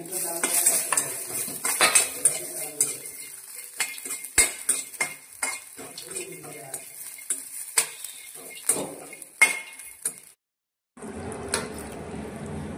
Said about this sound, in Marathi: आता खोबरं वेगळं भाजते.